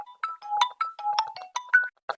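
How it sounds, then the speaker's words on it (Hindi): A mobile phone rings with a repeating electronic tune of short melodic beeps in a bouncing rhythm, clear and close with brief gaps between phrases. "रुक जा किसी के फोन आएगा प्रधान"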